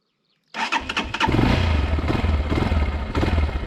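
A 2023 Geon X-Road Light 250 motorcycle engine cranks and fires after a brief silence, then settles into a loud, close, steady idle with a throbbing low rumble.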